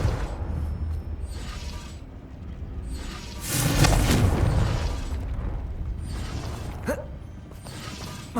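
A Confringo spell in Hogwarts Legacy sets off a booming explosion midway, preceded by creaking mechanical clatter and followed by a few sharp pops.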